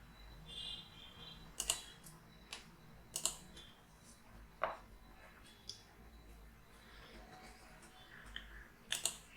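Typing on a computer keyboard during a MySQL uninstall in the Windows Control Panel: a handful of sharp, spaced key clicks over a low steady hum, fairly quiet and close.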